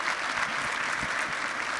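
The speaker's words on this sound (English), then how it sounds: "Another round of applause for this great group of people." Audience at an intelligence and national security summit applauds its leaders, a brief, dense burst of clapping filling a large room at steady loudness.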